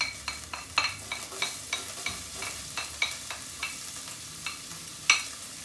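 Onions frying in hot chicken fat in a pan, a steady soft sizzle with repeated light scraping and stirring taps at a fairly even rhythm, close and moderately quiet.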